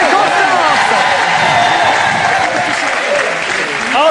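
A studio audience applauds comedians on a French television show, loud, dense clapping filling the whole stretch, with crowd cheers and a voice carrying over it.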